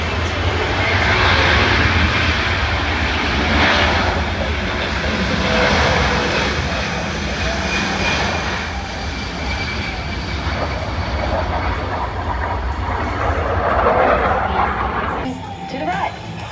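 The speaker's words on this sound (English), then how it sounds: "More jet noise coming from the right." Military jet engines roar loudly at the Australian International Airshow, a sustained broadband rumble that swells and fades as aircraft pass, with a voice talking over it.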